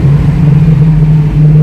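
A 133K-mile TVR Chimaera V8 holds a steady, close, loud low engine drone with no other sounds.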